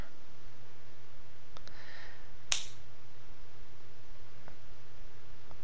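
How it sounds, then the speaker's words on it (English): A single sharp slap of a hand against skin, loud and close, standing out alone over a quiet hissy background. "that was the sound of my hand hitting my forehead."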